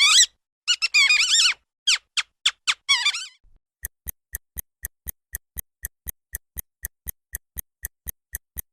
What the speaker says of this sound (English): It's a rat